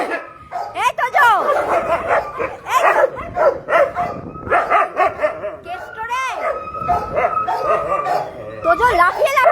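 Tojo the dog jumps and bites at home, giving repeated yips, whimpers and short excited barks up close while a person speaks over much of the scene.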